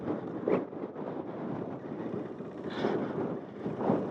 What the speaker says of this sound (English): The wind is super strong here.